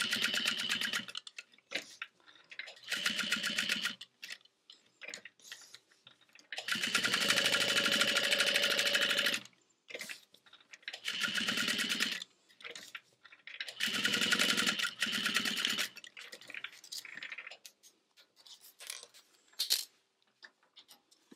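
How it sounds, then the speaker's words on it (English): A sewing machine runs in several bursts while stitching around the flap of a backpack, with fast rhythmic whirring runs separated by short pauses and small clicks, close and fairly loud. "then we're going to sew around the flap"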